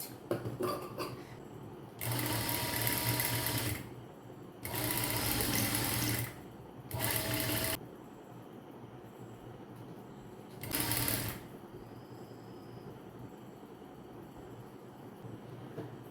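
A sewing machine stitches piping onto fabric for a top-stitched garment, running in four loud bursts of steady whirring, the longest about two seconds, with quiet pauses between them.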